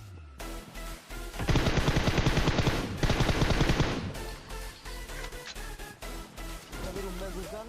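Automatic gunfire in the PUBG battle royale game, with a loud sustained burst of rapid shots followed by scattered shorter volleys and other game sounds.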